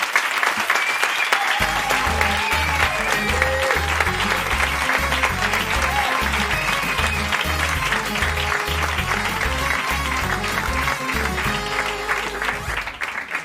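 A studio audience on a Spanish karaoke show gives loud, sustained applause for comedian Ernesto Sevilla, with a steady thumping music beat running underneath almost throughout.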